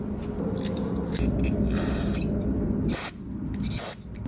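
Pressurised cleaner sprays hard through a tiny carburetor jet on an old motorcycle, a loud continuous hiss close by with two short bursts near the end.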